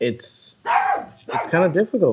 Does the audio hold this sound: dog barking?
yes